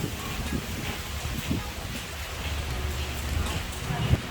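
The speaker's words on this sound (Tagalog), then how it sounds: "Olo. Ulan na jud guys." Rain begins falling beside a river outdoors, a soft, steady patter mixed with gusts of wind and rustling, with a person speaking over it.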